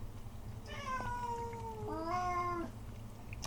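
A cat meows twice in a row, close and clear, each a drawn-out wavering call, over a low background hum.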